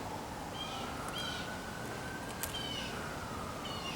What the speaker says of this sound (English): Man, the sirens.